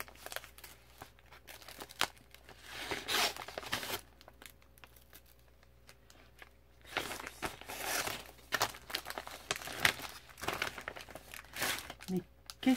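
A large paper envelope being opened, with soft intermittent crinkling and tearing of paper, fairly quiet and close, in bursts separated by pauses, while someone talks quietly at times.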